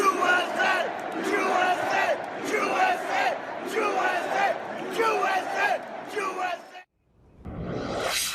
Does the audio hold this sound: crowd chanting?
yes